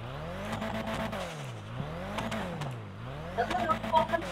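A Nissan GT-R Skyline with a turbo engine in the video game GTA 5 revs in repeated rising and falling sweeps, loud and close, with tire noise and someone talking over the engine.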